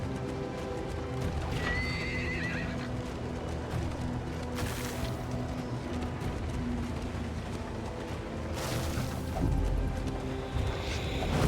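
Horses in the video game Darkest Dungeon II, loud whinnies and neighs over clip-clopping hooves, with a couple of sharp crashing impacts breaking in near the middle and end.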